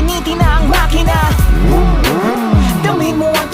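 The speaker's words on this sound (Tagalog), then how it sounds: "Painitin na ang makina!" A motorcycle engine warming up on a night ride, revving repeatedly in rising and falling sweeps, loud and close, with a layered, busy roar throughout.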